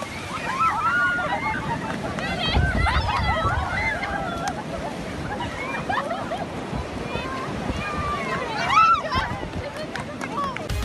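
Sea waves wash onto a beach in a steady surf roar mixed with wind buffeting the microphone, while excited voices and children's shouts carry over the water throughout.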